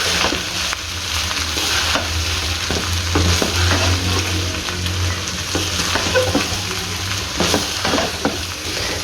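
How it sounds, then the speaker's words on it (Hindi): Chicken fajita rice gently mixed in a hot pan, a loud continuous sizzle with soft scraping strokes of the spatula and occasional knocks, close and steady throughout. "और इसको इधर आराम से हमने मिक्स करना है"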